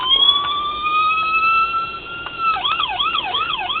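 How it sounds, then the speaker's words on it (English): A custom Sûreté du Québec VW Beetle model sounds its electronic 4-tone siren, close and loud: a long, high, slowly rising wail, then an abrupt switch to a rapid, pulsing warble. "Press it again. You get that Siren."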